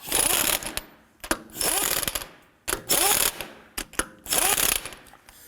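A ratchet wrench snugs lug nuts on a 2005–2009 Subaru Legacy front wheel, giving several loud, close bursts of rapid clicking separated by short pauses.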